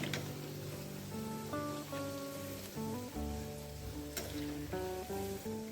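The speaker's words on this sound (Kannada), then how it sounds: "ಈ ಉಂಡೆ ಪಕೋಡನ್ನ ಎರಡು ಸಲ ಫ್ರೈ ಮಾಡ್ಕೋಬೇಕಾಗುತ್ತೆ" Onion unde pakoda balls frying in hot oil, a steady crackling sizzle that runs the whole time while gentle music plays, with no voices.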